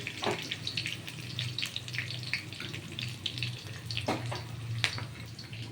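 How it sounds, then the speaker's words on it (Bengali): Ivy gourd (kudri) pieces tossed with salt and turmeric fry in hot oil, giving a steady close hiss and crackle with scattered sharper pops throughout. "এটা ভাজা হবে এবার আমি ছেড়ে দেবো"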